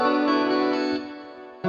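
A 2000s-style R&B beat built on a plucked guitar line and sustained guitar chords, heavily colored by effects, plays as a thick, steady wash that thins slightly midway before a fresh chord hits at the end.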